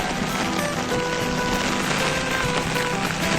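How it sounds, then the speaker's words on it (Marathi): Rain pours down steadily in a dense, hissing wash, continuous and fairly close, with no voices. "पूर्ण समोरचा पाऊस येतोय"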